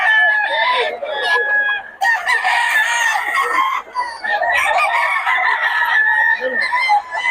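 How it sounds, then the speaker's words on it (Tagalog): Roosters and hens at a poultry market crow and cluck loudly and continuously, several birds overlapping close by, with brief gaps between bursts. "Solid ang mga manok ni Boss Tony."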